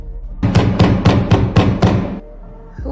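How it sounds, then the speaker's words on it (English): Someone bangs on a door with six heavy, evenly spaced thuds that sound loud and close, then they stop. "Who is banging on the door right now?"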